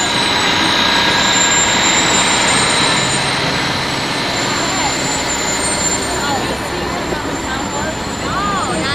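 A 3,000-gallon tanker truck rolls past in a Loyalty Day parade, its steady engine rumble and road noise filling the scene continuously with a faint squeal, while people talk over it.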